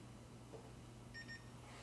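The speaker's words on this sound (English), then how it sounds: "Now you hear the beep sound." Two short, faint electronic computer power-on beeps in quick succession over a low hum of machinery, from a Neousys PB 9250J series industrial computer starting up without battery, close by and quiet.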